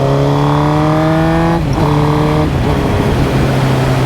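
A Suzuki GSX-R 1000 motorcycle with a new chain and sprocket cruises along, its engine humming loud and close, then drops in pitch in steps as it downshifts through a few gears.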